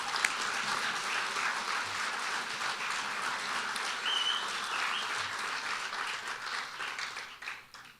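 An audience at a live event gives a sustained round of applause, dense, even clapping from a large crowd at moderate volume that tapers off near the end.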